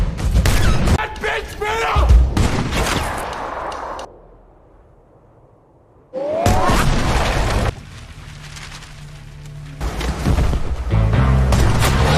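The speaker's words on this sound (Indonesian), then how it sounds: "terjadilah adegan baku tembak" A movie shootout with bursts of gunfire and booming impacts in dense, loud volleys, broken by a quiet pause and mixed with shouting voices and music.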